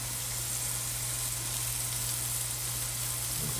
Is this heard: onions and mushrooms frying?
yes